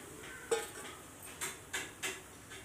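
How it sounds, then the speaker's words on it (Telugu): Semolina roasting in ghee is stirred in a pan, giving a few sharp, faint metallic scrapes and knocks of the spoon spaced apart over a quiet background. "ఇప్పుడు ఇగో ఇట్లా వేయించుకోవాలి. కొద్దిగా ఎర్ర కలర్ గోల్డ్ కలర్ వచ్చేదాకా వేయించుకోవాలి."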